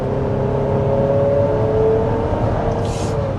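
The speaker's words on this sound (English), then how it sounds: "You can tell that it is a four-cylinder engine when you're really pushing it hard" Inside a 2024 GMC Acadia Denali, the four-cylinder engine pulls under hard acceleration with a steady, moderately loud drone. It rises slightly in pitch across a few seconds.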